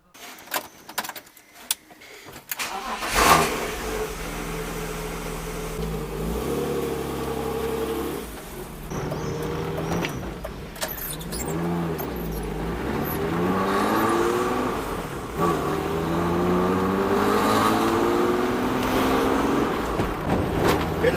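A car fitted with new extended control arms starts up and drives off for a test, its engine revving and rising in pitch through several gear pulls, close and loud, with a jangle of keys at the start.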